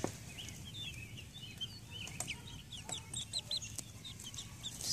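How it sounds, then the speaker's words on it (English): Soft, repeated clucking from a young rooster about seven weeks old in an outdoor play yard, in the middle distance over a constant outdoor background hum. "kind of wondering if anybody might need a nice rooster"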